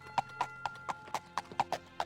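Horse hooves in an Elder Scrolls video game, clip-clopping in a steady, even rhythm of about four sharp, close knocks per second with no voices.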